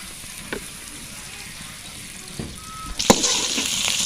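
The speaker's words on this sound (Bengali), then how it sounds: "এখন তেল দিয়ে আমরা এগুলো ভেজে নিব" Chopped onion, green chillies and bay leaves begin frying in oil in a village kitchen, a low hiss with a few clinks, then a sharp burst of louder sizzling near the end.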